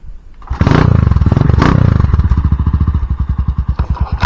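A motorcycle engine revs loudly up close, then settles into a rapid, chugging idle with distinct rhythmic pulses; the motorcycle has no working lights.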